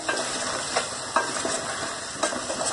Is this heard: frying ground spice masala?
yes